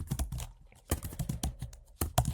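Rapid keystrokes on a computer keyboard as a scenario is typed into a chatbot, coming in irregular clusters of clicks with short pauses, close and alone.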